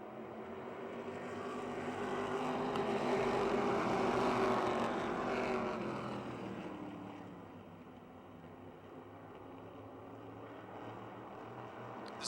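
A pack of race cars roars around Motordrome Speedway after the green flag. The blended engine drone swells to a peak and then eases off into a steady, more distant hum, with no voices.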